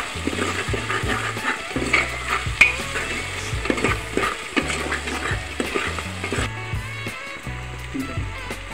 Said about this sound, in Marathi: तो इथे 1 चम्मच धनेपूड टाकून घेणार आहे, ते सुद्धा चांगल्या प्रकारे परतून घेणार आहे